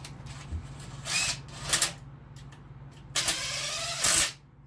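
An electric impact wrench tightens a fastener on a Yamaha Virago 1100 motorcycle engine during reassembly, giving several short, sharp hammering bursts of varying length against a quiet workshop background.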